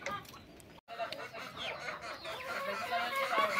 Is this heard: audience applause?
no